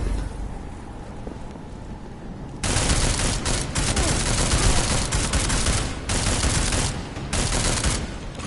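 Gunfire in Deus Ex: Mankind Divided: after a quieter stretch, loud, dense bursts of rapid shots crackle up close, with short pauses between sustained volleys.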